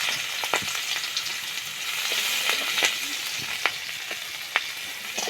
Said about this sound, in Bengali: পেঁয়াজ কুচি ও কাঁচা লঙ্কা দিয়ে দিচ্ছি।